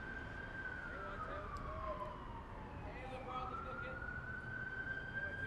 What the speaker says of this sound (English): We have ambulances going by Gill Stadium here, as you might be able to hear on this broadcast.